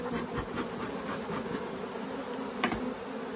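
A steady, close swarm of honeybees at a strong October hive in South Alabama buzzes continuously, a dense droning hum with no voices.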